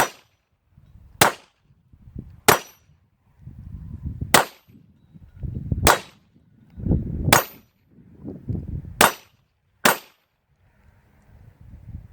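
Handgun shots of .38 to .44 caliber hitting an outdoor auto reset steel target, eight sharp cracks at irregular intervals of about one to two seconds, each followed by a ringing clang and low rumbling echo.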